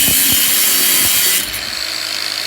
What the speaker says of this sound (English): I've got a Bauer from Harbor Freight right angle grinder. I got a cutting disc in there, and this thing just slices right through